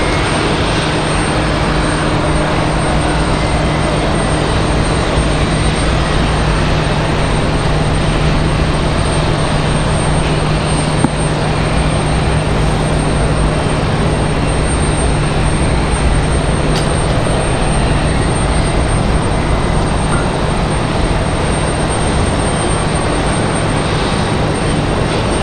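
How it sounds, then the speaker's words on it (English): A Frontier Airlines jet in Hummingbird livery arrives at Raleigh-Durham International on a flight from Philadelphia, its engines a loud, steady broadband roar that holds for the whole stretch without fading, with no talk over it. "So Frontier, Flower, the Hummingbird livery, going to be our next arrival, coming in from Philadelphia"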